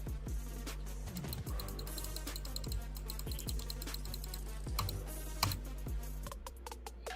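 Rapid typing on a computer keyboard during a live chat trivia stream, with dense irregular key clicks running steadily throughout over a constant low background hum.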